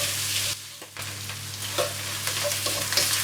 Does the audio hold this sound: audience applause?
no